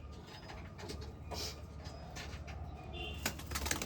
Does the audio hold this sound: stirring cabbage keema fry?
no